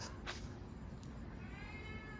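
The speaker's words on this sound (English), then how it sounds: "Rather noisy cat in the background waiting for breakfast." A cat waiting for breakfast meows in the background, with a couple of short, faint cries over steady broadband noise, distant and thin.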